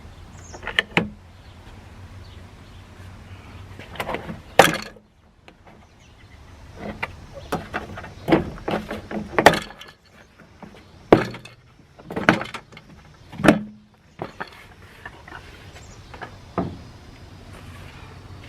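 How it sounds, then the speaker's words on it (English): Sharp plastic cracks and pops come one after another with pauses between as clips snap loose while a third-generation Cummins dually truck door panel is pried away, with clunks and creaks. "you need to take it out before you start prying this door panel off."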